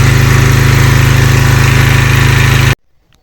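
A petrol generator converted to run on mains natural gas drones steadily and loudly at close range, with a regular low engine pulse, then shuts off abruptly near the end, leaving near silence.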